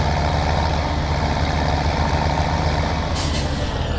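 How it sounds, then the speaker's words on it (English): A tractor engine idles with a steady low, heavy drone in the Farming Simulator 17 video game, close and constant, with a short hiss of air brake release near the end. "Move the tractor so it's over the pit, and hit I to dump."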